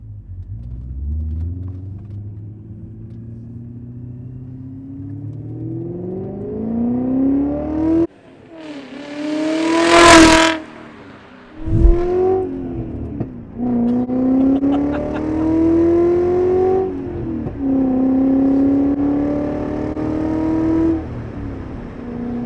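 A straight-piped BMW 540i V8 accelerating on the road, its loud engine note climbing through the gears with rising revs, a brief roaring burst at a shift, then another long climb, heard close up from inside the car without talk.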